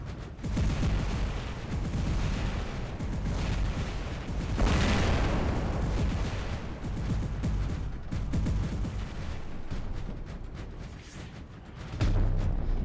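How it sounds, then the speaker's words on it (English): Trebuchet weapon shots hit an enemy robot in War Robots, a heavy continuous barrage of booms and blasts, loud and close, with a stronger impact midway. "I pretty much hit him with 4 trebuchets"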